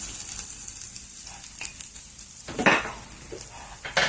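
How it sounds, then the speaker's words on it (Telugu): Pepper, cumin, coriander powder and garam masala fry in oil in a pan for egg rice, a soft steady sizzle broken by a few clinks and scrapes of a spoon against the pan. "అన్నీ వేసి కొద్దిసేపు వేయించుదాము"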